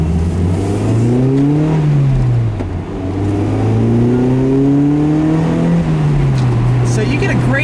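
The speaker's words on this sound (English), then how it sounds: "you get this nice sound from the engine that's a little growl" Stock engine of a 2011 Mazda MX-5 Miata with a manual gearbox, giving a steady induction growl that rises and falls in pitch through the revs, loud and close and continuous, with no talk over it.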